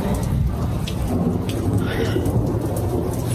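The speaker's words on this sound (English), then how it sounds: "But it's pouring down rain." Heavy rain pounds steadily on a campervan during a thunderstorm with strong winds and hail, a continuous dense roar with deep thunder rumbling underneath throughout.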